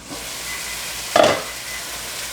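Chicken breasts sear in a hot pan for a Tuscan chicken pasta, making a steady close sizzling hiss. One brief louder crackle of spitting fat breaks through midway, with no talk.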